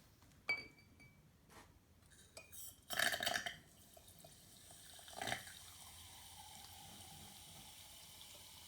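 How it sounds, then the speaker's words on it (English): An old Sparklets Type D soda syphon with a leaking lever dispenses fizzy water into a glass, giving a few sharp bursts of hissing spray and glass clinks, then a soft lingering fizz, all faint and close. "So what we'll do now is we'll dispense some fizzy water"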